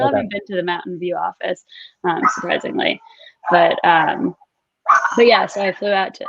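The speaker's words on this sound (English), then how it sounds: "sorry if you can hear my dogs barking in the background" Pet dogs bark in the background at home while someone talks steadily in the foreground, the barks partly buried under his voice.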